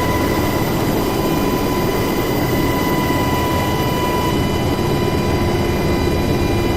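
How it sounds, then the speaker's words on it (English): Helicopter engine in the flight simulator DCS World, a loud steady whine and drone with sustained tonal hum, constant and close with no voices. "And I'm in a helicopter."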